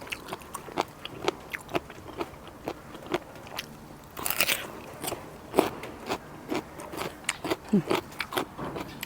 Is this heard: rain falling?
no